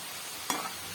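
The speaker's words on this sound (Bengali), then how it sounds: "উল্টে পাল্টে এটিকে ভালোভাবে ভেজে নেব" Steady hissing sizzle of food frying in a pan, with one brief scrape or stir partway through.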